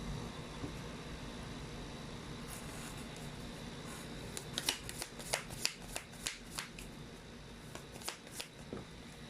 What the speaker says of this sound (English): let's try to pull up another set of cards again